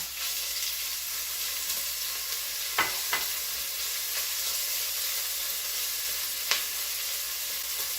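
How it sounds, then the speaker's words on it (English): Bacon sizzles in a hot pan, a steady close hiss with a few brief crackles and pops, heard alone with no talking. "my pan is quite hot, so I can go ahead and get the bacon going right away"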